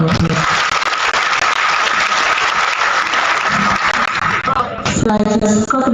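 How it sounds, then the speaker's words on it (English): Sustained, loud applause from an audience at a military training-centre lecture, honouring the commandants. It ends with a brief burst of a voice near the close. "Shall we once again give the commandants another round of applause?"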